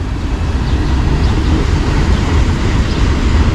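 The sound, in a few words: train cars passing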